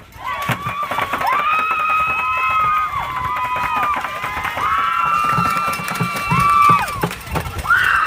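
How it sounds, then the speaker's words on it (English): A student section cheers on the Oktaha Tigers baseball team against the Canute Trojans at a state semifinal game, a loud, sustained crowd roar with rising chant-like shouts running across the whole stretch. "Great big thank you to the student section here cheering on the baseball team."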